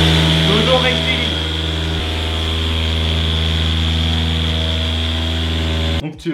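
A car polishing machine running at high speed lets out a loud, steady high-pitched whine with strong tonal hum, continuous and close before cutting off abruptly near the end.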